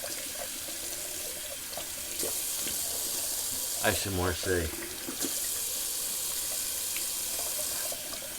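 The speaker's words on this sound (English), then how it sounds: "Just gonna do a little cold water rinse." Bathroom tap running for a cold water rinse after a razor shave, a steady hiss of water that stops and restarts, with a voice briefly speaking in the gap.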